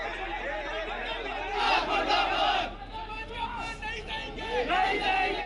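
Hundreds of angry people gathered in Jabalpur shout slogans against the police, a loud massed chant of voices rising and falling in waves, close and unbroken.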